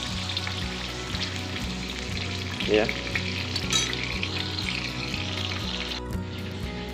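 Chicken liver and gizzard fry in a pan with a continuous close sizzle, broken by a few stirring scrapes, while a single brief word is spoken.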